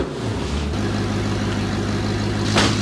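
An Audi R8 engine rumbles low and steady as the car pulls out of a garage, a continuous idle-like drone with a brief rise in pitch near the start and no voices.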